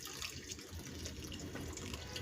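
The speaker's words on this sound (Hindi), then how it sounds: "अब इसमें शामिल करेंगे गर्म पानी।" Hot water pours steadily into a pot of khichda with a continuous splashing, running-water rush, near and fairly quiet.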